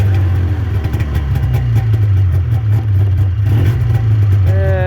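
A 1995 Polaris Indy 500 snowmobile engine runs loudly and close by with a steady, throbbing drone and slight surges in pitch.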